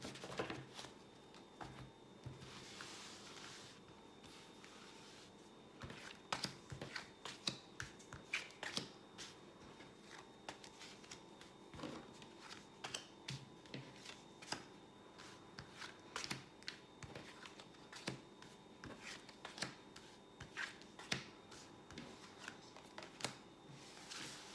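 Tarot cards are shuffled and handled by hand for a 13-card spread, giving quiet, close crisp snaps and riffling flicks that come in irregular clusters for about twenty-five seconds, with no talking.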